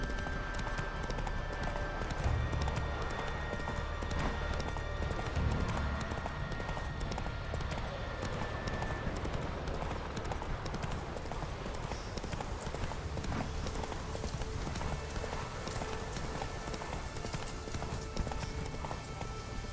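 Roach the horse galloping in The Witcher 3, a fast continuous clip-clop of hooves close by over a busy game soundscape, lasting throughout with no speech.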